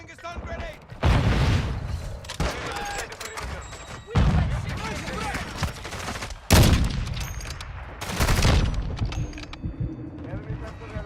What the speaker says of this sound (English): Grenade out! Throwing a stun grenade!